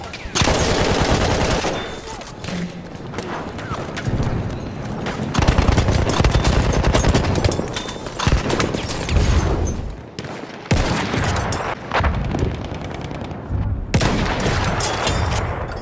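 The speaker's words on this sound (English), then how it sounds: "Machine gun, hostile." Hostile machine-gun fire in the war game Battlefield 1, loud and sustained bursts of automatic shots with explosions and battle noise, continuing with brief gaps throughout and voices calling out in the mix.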